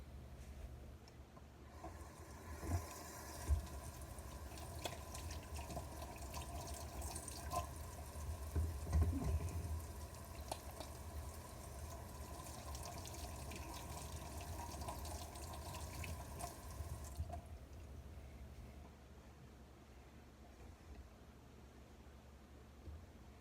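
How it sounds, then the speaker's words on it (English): Tap water runs steadily into a kitchen sink as hands are washed between steps of making roasted turkey with barley and apple stuffing, a constant close hiss with brief splashes and no talk. "let me wash my hands right quick"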